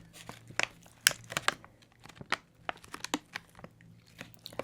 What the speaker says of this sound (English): Let's do a little bit of crinkling.